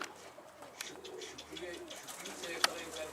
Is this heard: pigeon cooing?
yes